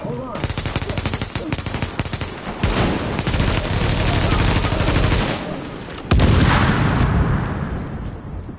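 Dense video game firefight gunfire, with rapid, close bursts of automatic shots layered over booming impacts and a heavy, continuous roar of battle.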